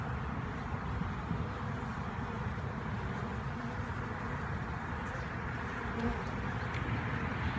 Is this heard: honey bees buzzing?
yes